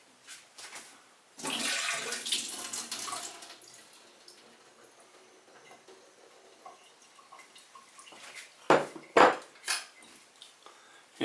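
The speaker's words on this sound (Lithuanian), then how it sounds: "Dabar imam vaisius, nupilam vandenį." Soaking water is poured off plums and apricots in a kitchen: a loud rush lasting a couple of seconds, followed by quieter trickling and a few sharp clinks of dishes near the end.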